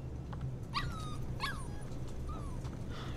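A puppy in the video game Life is Strange 2 whimpers and yips in a few short, high, rising whines, spaced apart over a low steady background hum, fairly quiet and close.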